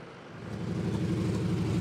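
A tractor-pulling machine at the Kirkbride power weekend roars down the dirt track, its engine a steady throbbing rumble that builds in loudness and holds, heard from a moderate distance with no talk.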